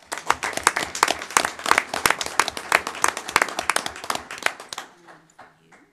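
A small group claps for about four seconds at a city council meeting, sharp close hand claps that thin out and stop, followed by quiet murmuring.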